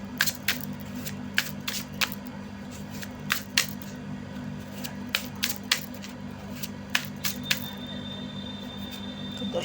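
Tarot cards are shuffled close by in quiet bursts of soft, crisp riffling taps that repeat irregularly over a low steady hum, with no talking.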